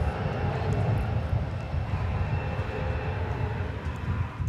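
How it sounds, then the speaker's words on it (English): Turkish Airlines Boeing 787-9 Dreamliner airliner at DFW airport, a continuous low jet rumble that stays steady and fairly loud throughout, with no talking. "It's a 787-9 Dreamliner"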